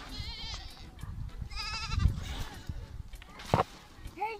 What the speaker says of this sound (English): All the goats are rushing now to come.